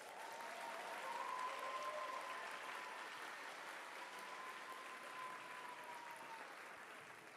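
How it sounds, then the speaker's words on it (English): Distant, soft applause from a concert audience after a school winter concert, an even steady patter of many hands with a faint sustained tone running underneath. "Let's give them one more round of applause."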